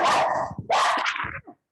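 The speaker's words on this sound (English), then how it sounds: "He loves to bark right when we're trying to calm down." A dog indoors lets out two loud, close barks in quick succession, alone with no talking over them.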